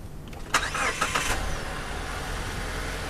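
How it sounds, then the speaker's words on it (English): A car with a good battery is started during a jump start: a brief cranking burst catches and settles into a steady, moderately loud engine idle that continues alone. "we're going to go ahead and start the vehicle with the good battery."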